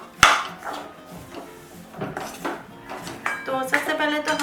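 Metal spoon scraping and clanking against a hot kadhai while besan roasts for a Diwali barfi, a sharp clank at the start followed by steady irregular scrapes and taps, close and moderately loud.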